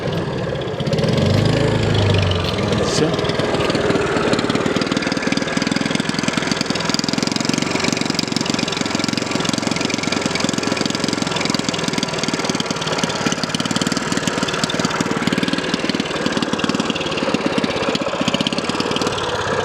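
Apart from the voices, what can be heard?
engine being tested, idling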